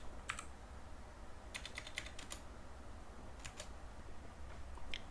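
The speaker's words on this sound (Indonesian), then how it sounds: "Gak usah perlu coba, ini tinggal ngetik panah atas aja lagi." Keys on a computer keyboard clatter in short bursts, with scattered single taps and a quick run of strokes as the up arrow is pressed during database work, faint and close against a low steady background hum.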